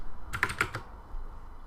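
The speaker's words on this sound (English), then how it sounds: "we'll just start typing in the stats from there" Computer keyboard typing as game stats are entered into a Diablo 3 gear analysis tool: a short close burst of about four quick keystrokes, then quiet room tone.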